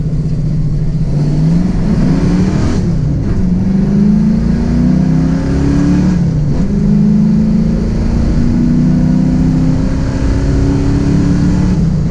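Loud V8 of a first-generation Ford Mustang on drag radials accelerating hard through a couple of gears, engine pitch climbing, dropping briefly at each shift, then rising again, close and continuous with no talk.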